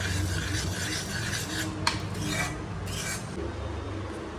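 A spoon stirs homemade mixed fruit jam after lemon juice is added, giving a steady, close scraping and rasping against the pot over a low background hum.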